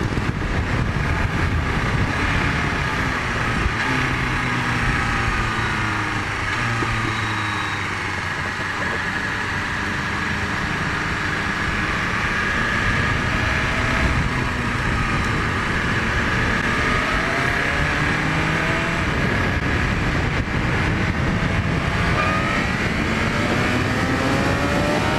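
A 2020 BMW S1000RR accelerates hard, its engine note climbing in steady rising sweeps through the gears, loud and close over constant wind roar, with no talking.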